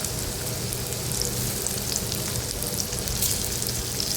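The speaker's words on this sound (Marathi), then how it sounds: "वड्या जेवढ्या बसतील तेवढ्या वड्या मी ह्या पॅनमध्ये टाकते आणि मध्यम आचेवरती आपल्याला ह्या वड्या तळून घ्यायच्या आहेत" Vadis shallow-frying in oil in a pan over medium heat, a continuous dense crackling sizzle held at an even level, close and unbroken, with no voices.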